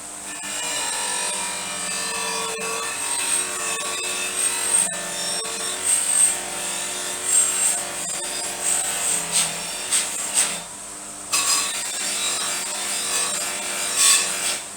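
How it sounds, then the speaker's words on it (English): A buffing wheel polishing a part during a Jawa motorcycle restoration, a continuous close whirring rub with shifting pitch as the part is moved one way and then the other, loud and steady with no talk. "So when you're buffing, go in one direction, then go the other direction."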